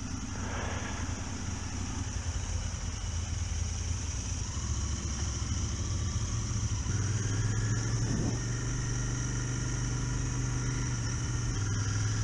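A Royal Enfield Continental GT motorcycle engine runs steadily while being ridden on the road, with a continuous low drone and wind rush and a slight change in engine note partway through.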